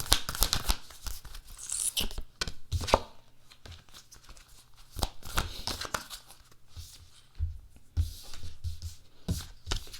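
Tarot cards are shuffled repeatedly in quick, crisp bursts of riffling and tapping, close by, with brief pauses between rounds.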